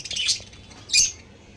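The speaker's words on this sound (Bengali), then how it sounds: "ওই দেখো লাভবারটা চেঁচাচ্ছে" Two sharp, shrill screeches from a pet lovebird, close and loud, separated by a short pause.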